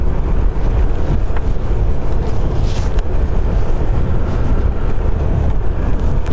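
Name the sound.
wind blowing against rider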